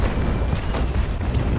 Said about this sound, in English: Fortunately, I've got my cannons ready outside,